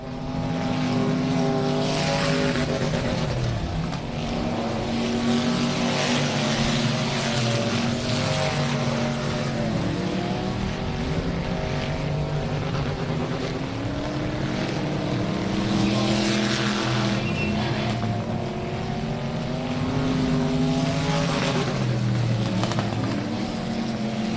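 Race cars on the final lap of a dirt track race at South Texas Race Ranch: a continuous loud engine roar whose pitch rises and falls as the cars run through the turns, with no pauses.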